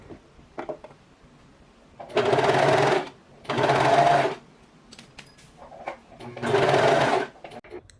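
A serger overlocks elastic onto a swimsuit in three loud, steady bursts of motor whir, each about a second long, separated by brief pauses and light handling sounds.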